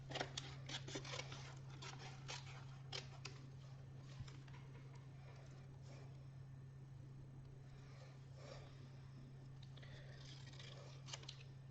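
Scissors cutting a craft sheet, heard as a quick run of crisp snips close up at the start, then sparse, softer clicks over a steady low hum.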